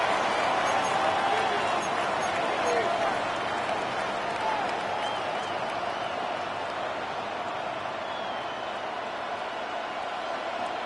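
Steady stadium crowd roar from the Madden 26 football video game, a dense wash of cheering and applause that holds at a loud, even level throughout.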